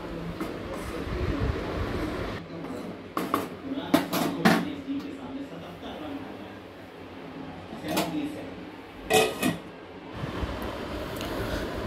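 A spatula stirs masala paneer in a pan over medium heat, making scraping, clattering strokes in short clusters separated by quieter stretches with a low background hum.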